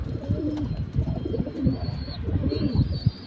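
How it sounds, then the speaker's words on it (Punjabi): Several flying-breed pigeons coo softly and steadily inside a loft, overlapping low throaty calls with a few faint chirps and no talking. "ਇਹ ਆਪਣੇ ਉਡਾਈ ਵਾਲੇ ਕਬੂਤਰ ਹੈਗੇ ਨੇ ਜੀ"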